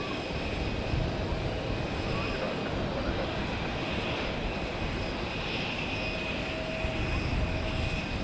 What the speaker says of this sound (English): grey jet, was most likely a business jet